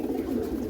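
Pigeons cooing in a loft, a steady low throaty burble filling the short moment, close and continuous with no talking.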